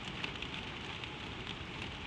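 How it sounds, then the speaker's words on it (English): Steady rain patters on a slate roof under the eaves, a soft even hiss with faint scattered drops and no other sounds. "The rain steadies. It finds a slower rhythm on the slates, softer now"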